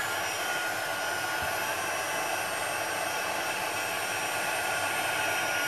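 A heat tool blows steadily from underneath to melt embossing powder, giving a continuous hair-dryer-like whoosh of constant, moderate loudness with no talking.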